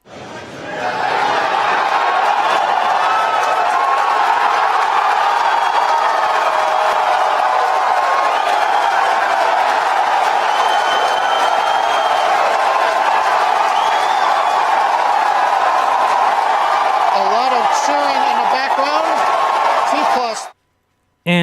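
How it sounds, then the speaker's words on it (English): SpaceX employees cheer during the SES-10 rocket launch, a loud, continuous crowd roar with whoops and shouts that holds steady for about twenty seconds, then cuts off abruptly. "the cheering you hear is from employees who probably get a bonus for actually showing up and cheering like maniacs"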